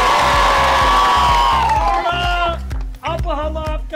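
A crowd claps in a quick steady rhythm and cheers with whoops and shouts, loud and close throughout, with voices calling out over the clapping.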